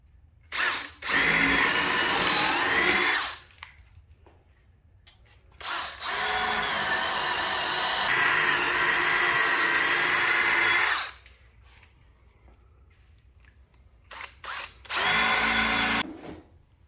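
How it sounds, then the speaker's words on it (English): A power drill whirs loudly in three long bursts with short pauses between, close to the microphone, pre-drilling holes in wood for bolts. "And so we pre-drill our holes again"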